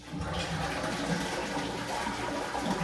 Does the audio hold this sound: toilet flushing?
yes